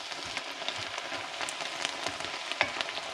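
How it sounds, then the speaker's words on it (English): Peppers, onions and garlic sweat softly in a pan for a pilaf, a faint, gentle crackling sizzle with scattered small pops, heard close with no voices. "The peppers, onions, and garlic are sweating up nice."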